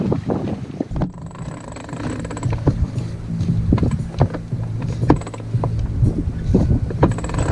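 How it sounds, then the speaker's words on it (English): A hand winch cranks in a Jordan series drogue aboard a sailboat at sea, with irregular ratcheting clicks and mechanical knocks over steady wind and water noise, close and moderately loud. "Once there's a wave, it goes slack enough to be going pretty quick on the winch."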